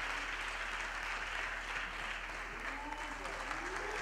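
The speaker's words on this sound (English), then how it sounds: "we can give him a round of applause" A graduation audience applauds the choir master, a dense steady wash of many hands clapping at a distance, faint and continuous, with a low hum underneath and a few voices mixed in.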